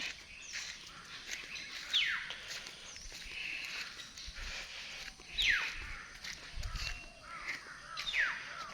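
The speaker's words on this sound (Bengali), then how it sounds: "কিচিরমিচির শব্দ শোনা যাচ্ছে।" Birds call in a dense wild bird sanctuary habitat in Bangladesh: several sharp descending calls ring out a few seconds apart, moderately near, over a quiet ambient background with faint rustling.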